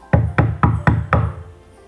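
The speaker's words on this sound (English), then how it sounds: "Doña Lola knocked on the door of the house." Five evenly spaced, firm knocks on the door of a house, close and distinct, followed by quiet.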